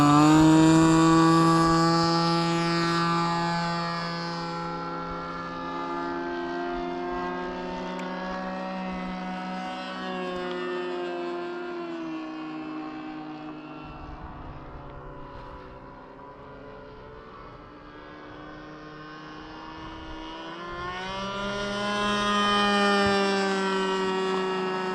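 Nitro-powered RC airplane engine held at full throttle with a freshly changed propeller, a loud sustained high-pitched whine that holds steady for the full stretch, dips slightly midway and then swells again near the end, with no talking.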